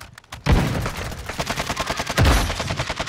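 Rapid gunfire in the shooter Modern Warfare 2 Resurgence, a loud opening burst followed by rattling repeated shots and a second heavy blast, close and continuous with no talk.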